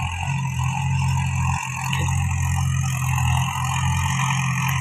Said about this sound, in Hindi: ट्रैक्टर आ गयो